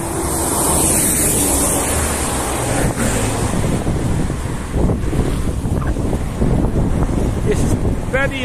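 Water spills over a dam beside a highway in Alagoas, Brazil, making a loud, steady rushing wash. Heavy wind buffeting on the microphone and a faint voice are mixed in.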